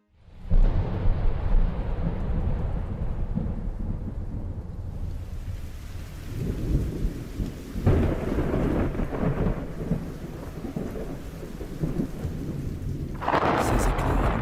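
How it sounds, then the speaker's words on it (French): Thunderstorm with a heavy rolling thunderclap up front and continuous rain pouring throughout, further rumbles building later, loud and enveloping with no voices. "Qui n'a pas senti un frisson à l'approche de l'orage en pensant au pouvoir de Dieu ?"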